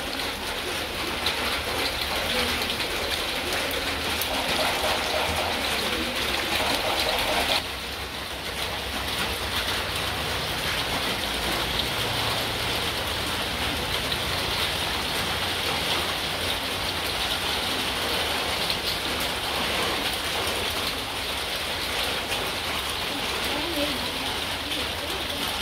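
Steady rain falls outdoors on an overcast afternoon during a seafood barbecue, a dense, constant hiss that runs the full length with only a brief dip partway through.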